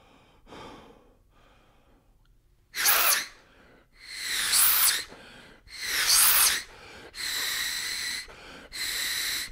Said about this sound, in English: you're throwing the air as quickly as possible. So you get a full breath.